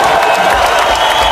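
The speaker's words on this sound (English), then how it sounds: "Let's give him a big round of applause." Loud, dense applause and cheering from an audience celebrating a young trophy winner at an achievers' awards event, steady throughout the brief moment.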